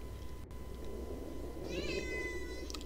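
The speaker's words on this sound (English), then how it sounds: "What are you meowing about?" A domestic cat meows indoors, a single drawn-out, rising-and-falling call near the end after a quiet stretch of low room noise and a brief click.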